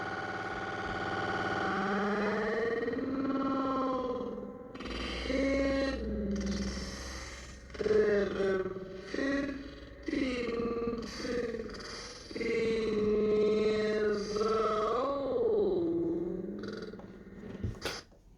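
Time-stretched audio on a Novation Circuit Rhythm sampler groovebox, a warped, pitch-bending stream of tones that swoops and slides over a steady low hum for about eighteen seconds, loud and continuous with no talking.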